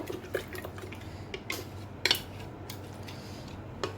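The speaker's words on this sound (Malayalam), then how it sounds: "പഞ്ചസാര ഒന്ന് അലിയണ വരെ ഒന്ന് ഇളക്കി കൊടുക്കുക." A spoon stirs sugar into homemade aloe vera wine, giving a few faint, scattered clinks against the container in a quiet room.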